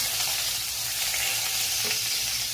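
Chopped onion frying in a pan, a loud, dense and constant sizzle close up with faint stirring movement underneath and no voices.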